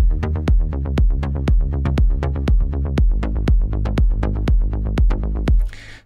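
Progressive house low end with layered, sidechained bass and a filtered tom pulses in a steady four-on-the-floor rhythm, each deep thump followed by a pumping swell, loud and close, ending in a brief noisy tail.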